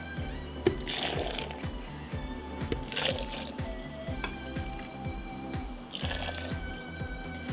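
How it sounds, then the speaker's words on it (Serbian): Boiling water poured into a glass jar, filling it to the top: a steady close trickle and splash with dripping, and small clinks throughout, with no talking. "I sada sa proključalom vodom napunit ću teglu."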